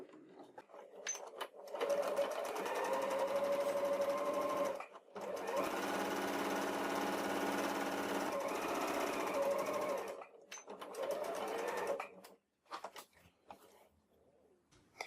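Sewing machine running topstitch along the printed side of a fabric notebook cover, in three long steady bursts of stitching separated by short pauses, close and fairly loud with no talking.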